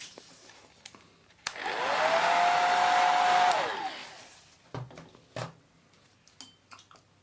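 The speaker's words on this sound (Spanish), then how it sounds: "Vamos a darle con el secador para asegurar." A hair dryer blows on fresh paint between coats, a steady close whir lasting about two seconds before cutting off, followed by a few light knocks and clicks.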